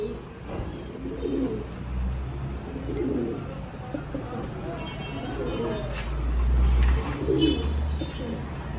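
Fancy pigeons coo in a loft, low rolling calls repeating every second or so, with someone speaking over them and a low background hum.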